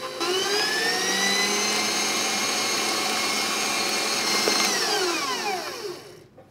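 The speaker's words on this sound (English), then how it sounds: "Then I'm going to turn the mixer on high speed and let it get really nice and fluffy." An electric stand mixer runs on high speed creaming butter cookie dough, a loud steady whirring drone with a slight pitch shift near the end before it winds down.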